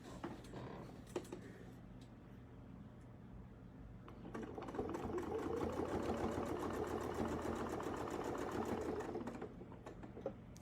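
Sewing machine stitching along a marked line on a quilting setup with a crosshair ruler foot, a steady whirring hum that builds after a few light clicks and runs evenly for several seconds before stopping, close and fairly quiet.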